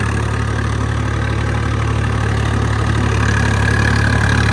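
A Swaraj 855 tractor engine runs at a steady idle, a loud, constant low rumble close by with no voices.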